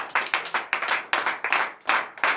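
A church congregation claps in a steady rhythm at a morning prayer service, with sharp, even handclaps close by and no voices over them.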